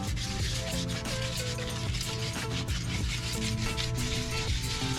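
Scuffing a Se7en-style aftermarket car wheel with abrasive before repainting produces a steady, continuous rubbing and sanding rasp. It runs unbroken throughout, mixed with loud background music.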